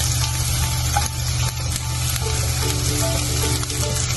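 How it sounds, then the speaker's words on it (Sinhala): Onions and garlic tempering in hot oil for a coconut dhal, giving a loud, continuous sizzle with light stirring and no voices. "දැන් මේ වගේ ලුණු ටික ටිකක් ටෙම්පරාදු වෙනකොට මම එකට එකතු කරගන්නවා සුදු ලුණු"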